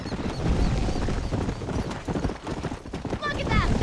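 Horse hooves clip-clop at a steady gallop in the Western video game Red Dead Redemption, close and continuous, with a brief whinny near the end and game chatter mixed in.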